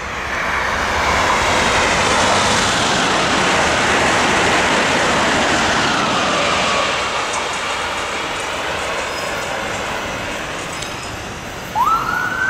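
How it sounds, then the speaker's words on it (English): An Amtrak Acela high-speed train rushes past on the line toward New York and Boston. It makes a broad, airy roar that swells, holds, then slowly fades, with a brief tonal squeal near the end and no talking. "The Acela, this country's fastest train, for the time being."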